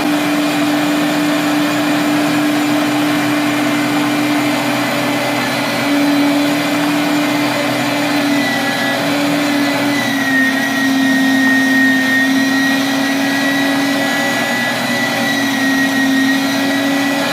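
Silvercrest SFW 350 electric meat mincer running steadily while mincing tomatoes, a continuous loud motor whine with a strong low hum and a slight pitch wobble, heard alone throughout.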